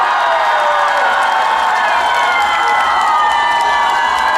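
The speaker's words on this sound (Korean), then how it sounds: "즐길 준비되신 분들 박수와 환호성을 부탁드립니다" A large crowd at an outdoor trot music festival stage at Daejeon Station cheers and claps continuously, a loud dense wash of voices and applause with occasional shouts rising above it.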